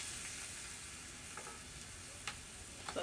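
A hunk of chicken frying in a pan for Tuscany chicken and spinach pasta, giving a steady close sizzle with a few brief scraping clatters as it is flipped.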